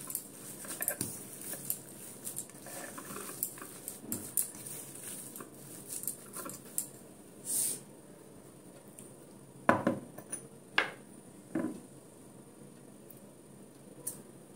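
Chana dal kebab mixture is worked by hand with salt in a bowl, giving soft, irregular sticky pats and squelches along with occasional clinks of utensils, close and fairly quiet.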